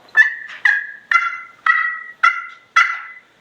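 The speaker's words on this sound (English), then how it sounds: "So you can make a yelp," A crystal over slate turkey pot call sounds a series of six sharp, evenly spaced yelps, each a bright rasping note that trails off, played close and clear with no talking.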